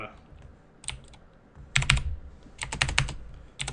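Computer keyboard typing comes through as close, crisp clusters of keystrokes in quick bursts, with a faint voice underneath.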